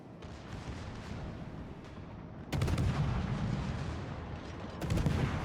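Warship guns firing during a naval battle in World of Warships: two heavy, booming salvos land about two seconds apart over a continuous rumbling din of distant gunfire, with no talking.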